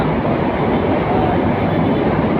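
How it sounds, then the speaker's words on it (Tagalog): A loud, continuous rumbling roar of an elevated LRT train passing overhead along EDSA in Caloocan City, steady and close for the whole stretch. "Ayan yung train sa LRT sa taas"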